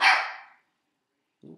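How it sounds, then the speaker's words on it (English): A dog gives one loud, sharp bark close by, followed by silence and then a brief soft sound. "excuse my dog there"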